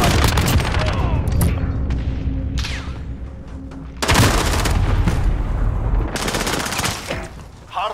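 Heavy gunfire in a video game: dense bursts of rapid automatic shots and booming blasts, loud and close, with a lull in the middle before another long burst.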